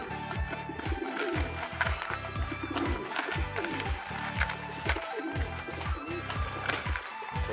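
Racing pigeons in a loft cooing while they are fed binder feed: repeated low, throaty coos overlap one another, with shuffling and fluttering activity close by.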